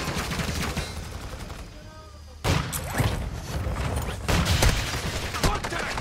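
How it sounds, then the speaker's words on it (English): Automatic gunfire in Modern Warfare 2, dense bursts of rapid shots crackling loudly, a brief lull, then heavier overlapping fire and impacts resuming close by. "Oh, they shooting at me. They shooting at me."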